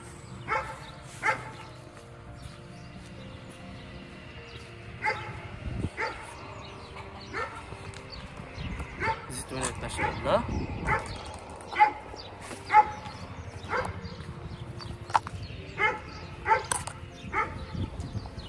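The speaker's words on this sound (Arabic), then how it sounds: "كلب فرح بيه." A dog at a large walled villa with an olive grove in Borj Touil, Tunis, gives repeated short barks and yips at varying distance, mixed with someone talking throughout.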